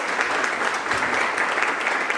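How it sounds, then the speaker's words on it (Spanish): A church congregation claps together in a steady, dense burst of applause that fills the whole short stretch at even loudness, with no speech over it. "Dale un aplauso al Señor"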